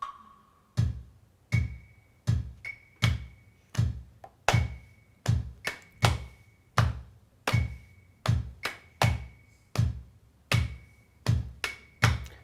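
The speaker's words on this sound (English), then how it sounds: "a little example of what that sounds like with a bass drum and claves" A sharp wooden clave click and a deep bass drum thump repeat in a steady syncopated rhythm, close and clear, with no talking.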